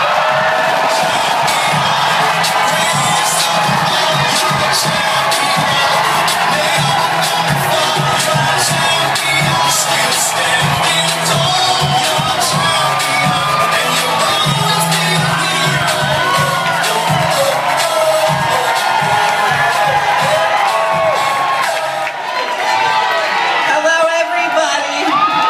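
Crowd cheering, whooping and shouting loudly as a drag show winner is brought out on stage, a dense continuous roar with high screams that carries on throughout.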